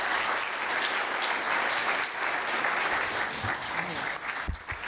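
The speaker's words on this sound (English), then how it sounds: "Give yourselves a round of applause" Audience applause fills a morning panel program in Hawaii, steady, dense clapping sustained throughout with a few louder claps near the end.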